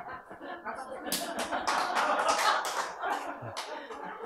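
An audience at a Korean lecture on healing autoimmune disease bursts into a short round of clapping mixed with laughter, while a speaker keeps talking.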